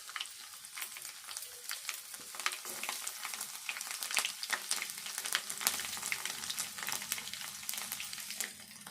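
Dried red chillies, cumin, mustard seeds and crushed garlic fry in hot oil for a Telugu lentil dish, a steady close-up sizzle with crackling pops and occasional stirring scrapes, no talk.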